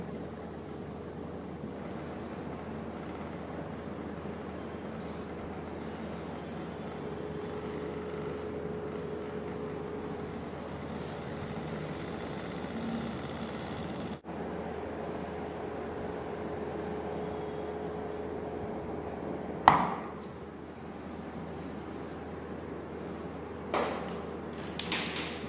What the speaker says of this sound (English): Okay, the motor is running.